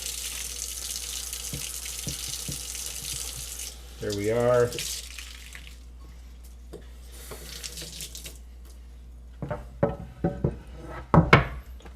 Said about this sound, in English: You can see I'm getting both sides wet with the water.